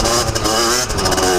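Motorcycle engine holding steady mid-range revs during a gentle break-in ride, droning loud and close with a slight rise and dip in pitch.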